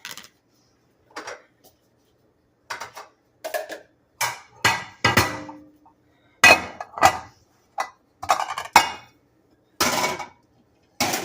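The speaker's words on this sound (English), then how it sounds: "Let me get the last of these little bit of dishes put away" Dishes are put away in a home kitchen, with a dozen or so separate clinks and knocks of plates, cutlery and glass set down nearby, spaced by short silences and with no talk.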